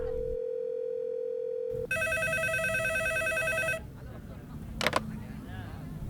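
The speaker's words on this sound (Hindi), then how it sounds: "पब्लिक टेलीफोन बूथ पर इनकमिंग कॉल कैसे आ सकती है?" A public telephone booth rings with an incoming call in a Hindi-dubbed Telugu action film. A steady tone gives way to about two seconds of bright electronic ringing, then a noisy background with a sharp click.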